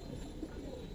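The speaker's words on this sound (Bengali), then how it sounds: "আমরা আজকে শুরুতে দেখবো এক প্যার নাপতা কবুতর" A Naptha pigeon pair coos in a short, soft, steady murmur, close by and alone with no voices.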